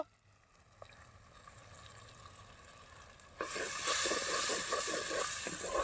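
Garlic hits hot oil in a village-style pan, with tomato pieces nearby: a quiet hiss swells suddenly into a loud, steady crackling sizzle that keeps on to the end.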